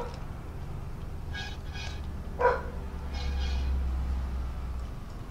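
Dogs barking in Total War: Warhammer 2 co-op battle, a few short barks and yips at mid distance over a steady rumbling battle din.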